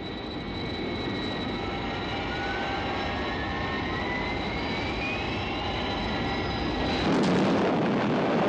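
Jet aircraft coming in for an emergency landing, a loud steady roar with whining engine tones holding throughout, then a sharper burst of broadband noise near the end.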